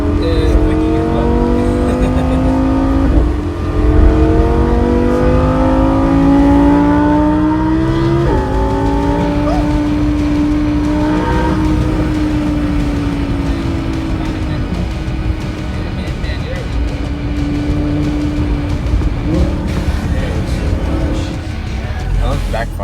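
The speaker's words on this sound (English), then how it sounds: "Backfire." Inside a Lamborghini supercar during a ride-along, the engine revs and shifts through rising gear pulls, with sharp pops cracking out at the top of the revs; loud and close, with people talking over it.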